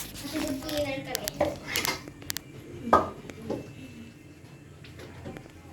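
Dishes being washed with a sponge, with sporadic clinks and scrapes of plates and cutlery close by while voices talk over the clatter.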